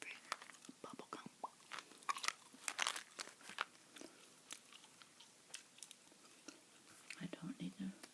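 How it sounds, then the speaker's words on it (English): Someone chews Bazooka sugar-free bubble gum close up, giving irregular wet smacks and crackles spread across the stretch, with faint whispering mixed in. "here's the gum I'm chewing today, by the way. Bazooka. Sugar-free bubble gum."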